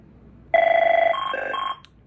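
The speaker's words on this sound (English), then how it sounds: "I forgot to show you what this sounds like when it's ringing." A Lucent/Avaya Definity 8434DX office telephone gives one electronic ring burst, a clear warbling two-tone trill that lasts about a second and a quarter and then stops, with no talk.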